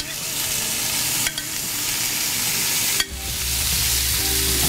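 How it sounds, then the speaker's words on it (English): Veal chops sauté in olive oil in a pan, a loud, steady close sizzle running throughout with two brief interruptions. "You wanna make sure you hear that nice sizzle."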